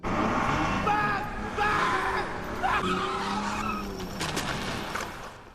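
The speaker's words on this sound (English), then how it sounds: "He gets in the car and races it at full speed" A car races at full speed with tyres skidding and squealing, a loud sustained roar of engine and rubber over several seconds with sharp screeches in the middle.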